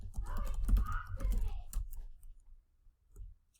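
Quiet typing on a computer keyboard, a close, quick burst of soft clicks and taps that stops partway through, followed by a brief pause and one last tap.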